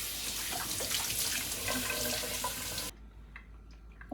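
Hands being washed under a running kitchen tap while cooking Jamaican ackee and saltfish with susumba rice, a steady broadband water rush that stops abruptly near the end, leaving faint drips and handling sounds.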